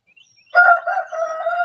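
A rooster crows once in a rural yard, a loud close cock-a-doodle-doo rising after a brief quiet lead-in and holding to the end.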